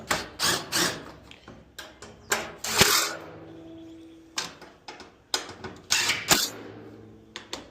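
Close, sharp clicks and ratcheting bursts of a screwdriver tightening screws on a noisy Kenmore Elite dryer during repair, in irregular clusters with short pauses between them.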